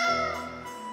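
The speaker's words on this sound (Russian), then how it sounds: "Что значит все это мяуканье?" A cat meowing in the video game Tales of Vesperia, a single drawn-out, tonal meow heard close and clear, fading slightly toward its end.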